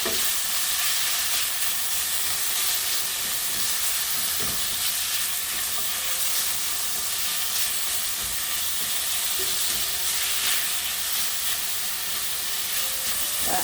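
Minced garlic sizzles in a hot pan with browning meat for kimchi stew, a steady, close, loud frying hiss with light stirring clicks throughout.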